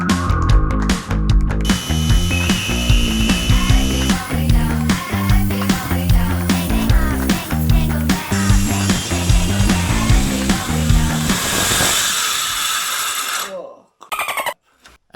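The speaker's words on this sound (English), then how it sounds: "I just cut some plywood strips and saw how it looks like" A power tool cuts plywood strips for framing a van bed, giving a loud, rhythmic, pulsing mechanical whir that runs for about thirteen seconds before stopping abruptly, then a few faint clicks follow.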